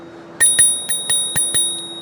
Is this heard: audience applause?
no